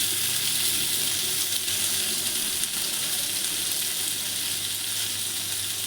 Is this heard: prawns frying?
yes